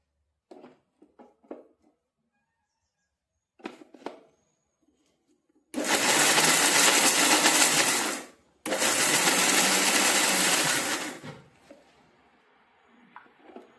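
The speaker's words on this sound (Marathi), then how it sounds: "आता थोडं थोडं मिक्सरमध्ये घालून आपल्याला बारीक करायचं आहे" A mixer grinder grinding crumbled damtyache ladoo mixture for Diwali sweets runs in two long, loud, whirring bursts separated by a brief pause, with quiet kitchen clatter before and after.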